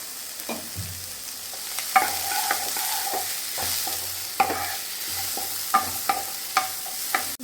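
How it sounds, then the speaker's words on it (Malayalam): Finely chopped onions with a little salt sauté in a hot pan for a crab dish: a continuous sizzle with repeated scraping stirs and sharp spoon taps on the pan, close and clear, with no talking. "സവാള ചെറുതായിട്ട് അരിഞ്ഞതാണ് നന്നായിട്ട് വഴക്കാം നമുക്ക്"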